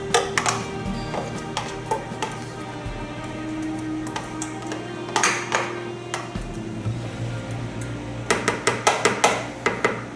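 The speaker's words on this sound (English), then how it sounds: "Mix this together." Spices and a tablespoon of oil mixed together in a bowl for a spiced whole fish, with repeated clinks and knocks of a utensil against the bowl in irregular bursts, close and fairly loud, over a steady low hum.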